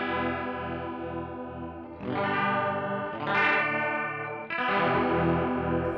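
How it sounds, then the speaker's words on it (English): A Keeley Supermod Workstation pedal's ADT effect thickens an electric guitar with delayed, detuned doubled voices, giving a shimmering, chorus-like wash over a few sustained chord changes, played alone. "Number 5 is the ADT, which blends in delayed and detuned voices"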